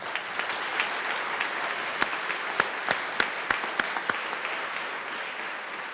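Applause in the Colorado House of Representatives chamber, a steady wash of clapping with sharp individual claps popping out near the middle, no speech over it.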